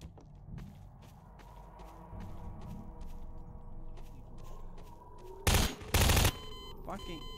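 Video game gunfire: soft footsteps and movement lead into two loud, close bursts of shots late in the clip, with scattered smaller reports around them.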